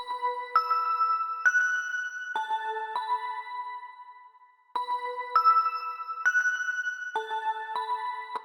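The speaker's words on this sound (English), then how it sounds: "For this one, we are using Purity, the breath bell preset." Purity's breath bell preset plays a trap counter melody, clear bell-like notes stepping in a repeating phrase of about eight tones, heard twice, clean and alone with no voices.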